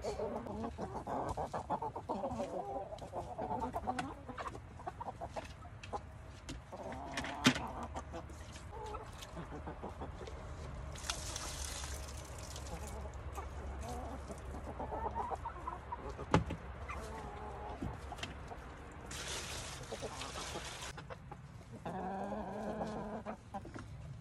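Backyard chickens cluck and murmur in a coop around their roosting area, with soft repeated clucks throughout, occasional sharper calls and some knocks and scraping from cleaning nearby, moderately close, with no talk.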